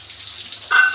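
Dried red chillies hitting hot oil for sambar, a bright sizzle and crackle that swells sharply near the end of a short burst, close and loud with no talking.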